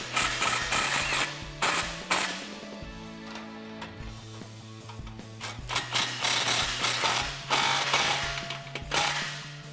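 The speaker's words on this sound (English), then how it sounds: "when we tighten these clamps, we're not going to tighten them down too much just yet" Ratchet tightening exhaust clamps on the X-pipe of a 2018-2020 Mustang GT Borla ATAK cat-back exhaust, rapid clicking runs in bursts with brief pauses, close and clear, no speech.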